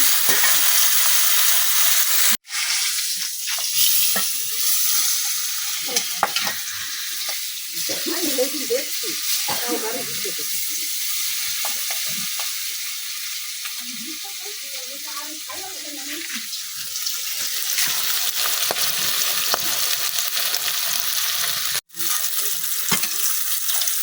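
Fish sizzles in very hot oil as the pieces are flipped, a strong bright hiss throughout with clatters and turning sounds, while someone talks over it for much of the time.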